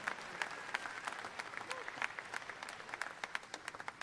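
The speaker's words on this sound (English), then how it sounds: "Folks, give all those a round of applause." Crowd applause at the Ohio State Fair livestock sale: a dense, steady patter of many hands clapping at moderate distance, with brief louder claps standing out, and no talk over it.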